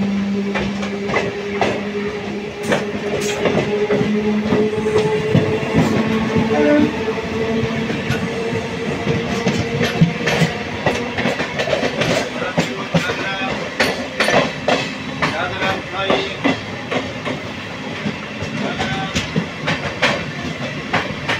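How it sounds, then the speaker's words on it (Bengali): An LHB-coach Netaji Express from Kalka to Howrah runs on the main-line rails as a local train overtakes alongside, producing a loud, continuous rumble with steady clickety-clack wheel beats throughout. "এখন আমাদের মেন লাইন লোকাল ওভারটেক করছে"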